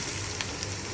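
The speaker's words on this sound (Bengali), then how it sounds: "একটু অলমোস্ট ভাজা হয়ে গিয়েছে, আর একটু মচমচ করে আমি নামিয়ে ফেলবো।" Onion fritters (peyaju) deep-frying in oil, a steady broadband sizzle with a low hum beneath, continuous and fairly close for the whole second.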